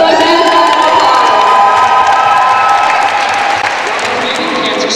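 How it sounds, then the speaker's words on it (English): A large crowd at a charity Relay for Life event claps and cheers for the planning committee, loud continuous applause mixed with shouts and whoops that eases slightly toward the end. "Give them a big round of applause."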